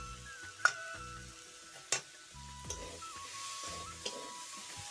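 Drumstick curry with spices frying in a pan over low heat, a soft steady sizzle with stirring scrapes and a few sharp utensil clicks against the pot, no talk.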